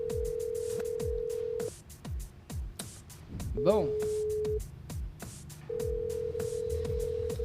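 A telephone rings during a live call on a French radio show broadcast from a brasserie, long steady tones in repeated bursts alongside background music and voices talking over it.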